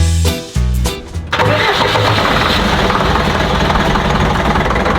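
A camper bus engine, one with a suspected loose part, cranks with a few rhythmic turns and then catches and roars into a loud, steady idle close by.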